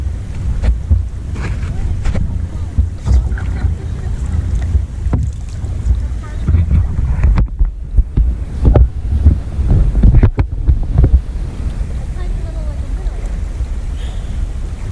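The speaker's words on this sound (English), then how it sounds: "The wind we're feeling is coming from about 1 mile." Wind sweeping across Saganaga Lake in the Boundary Waters buffets the microphone with a continuous low roar and swelling gusts, with faint water lapping beneath.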